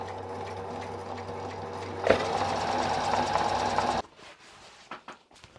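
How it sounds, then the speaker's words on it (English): Sewing machine stitching two pieces of denim from jeans together face to face, a fast steady mechanical whir for about two seconds that stops abruptly, followed by a few faint handling clicks. "Now we just got to sew them together at the top."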